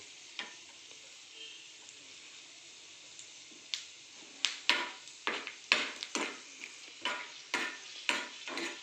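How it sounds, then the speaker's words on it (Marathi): Peanuts and roasted gram frying in a pan on a low flame, a faint quiet sizzle, then a series of sharp spatula scrapes and knocks in quickening rhythm as the mixture is stirred. "डाळवं चांगलं मिक्स करून घेऊया गॅसची फ्लेम मंदच ठेवायची आहे"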